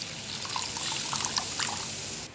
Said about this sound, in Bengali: ওই যে মশলাটা তৈরি করেছিলাম সেটা জল দিয়ে গুলে রেখেছি সেটা দিয়ে দিচ্ছি